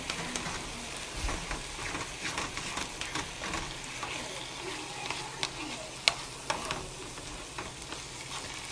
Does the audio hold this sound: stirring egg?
yes